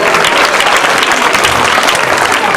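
Loud, dense applause from a school audience at an annual gathering and awards ceremony, sustained clapping from many hands throughout with no voices standing out.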